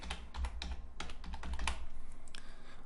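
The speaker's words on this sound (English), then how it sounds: "type in keywords." Keywords are typed on a computer keyboard, giving quick, close, irregular clicks and key taps in short bursts, fairly quiet and with no voices.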